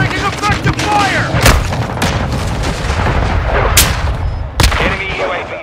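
Gunfire and booming blasts from a Call of Duty: Modern Warfare II match, several sharp loud shots cutting through a dense, continuous battle din, with an announcer-style voice heard in the mix.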